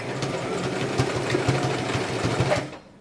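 A sewing machine stitches a dress rapidly with a steady mechanical whir and tapping rhythm, then stops near the end.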